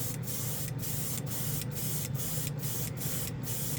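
Dspiae chrome paint sprayed from an aerosol onto a model in a steady, continuous close-up hiss laid as a heavier coat.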